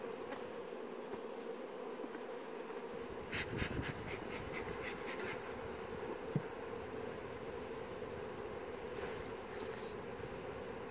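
Honey bees in an open hive, a dense, even drone of buzzing wings close to the microphone that runs steadily throughout, with a few brief handling clicks and scrapes.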